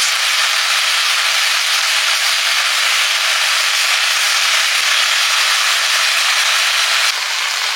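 Spice-coated snakehead fish hitting a hot pan, giving a loud, steady, broadband sizzle that holds without a break for about seven seconds.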